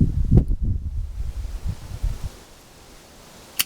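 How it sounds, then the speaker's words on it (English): Outdoor wind buffets the microphone as a loud, low, rumbling roar for about two seconds, then fades to a quieter hiss, with a short sharp sound near the end and no talking. "That wind's blowing real bad"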